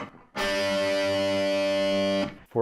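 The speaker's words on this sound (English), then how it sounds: "Now we're starting to get some real distortion." Electric guitar chord with the gain turned up into heavy distortion, one loud sustained buzzing chord ringing for about two seconds before being cut off, no voices.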